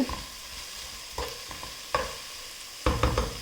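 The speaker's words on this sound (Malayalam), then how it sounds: "ഉള്ളി ഇതേപോലെ നന്നായി വഴച്ചിയെടുക്കുക" Onions sautéing in a pan while being stirred until brown, with a steady soft sizzle under distinct scraping stir strokes, the loudest bursts coming toward the end.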